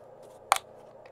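Plastic bottle of spring water being opened, a single sharp crackling twist of the cap lasting about a tenth of a second, close and clear over a quiet room background.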